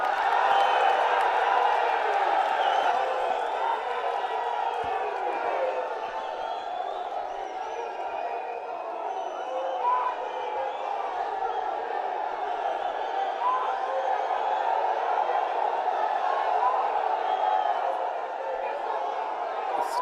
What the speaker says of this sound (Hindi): जोरदार तालियों से सब साथी स्वागत करेंगे माननीय राहुल गांधी जी का